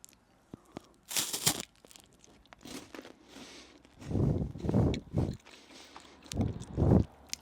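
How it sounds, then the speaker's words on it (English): Crunchy Icelandic chocolate wafer bitten and chewed close up, a few sharp crackling crunches followed by several louder munching bursts in an uneven rhythm, with no talking. "We have to do the crunch test."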